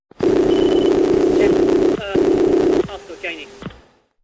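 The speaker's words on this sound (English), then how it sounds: "That's the sound of two people trying to transmit at once on the same radio frequency." A harsh, buzzing radio squeal from two players transmitting at once on the same frequency in a BMS multiplayer game: a steady tone, broken by a brief gap, then warbling chirps and fading static.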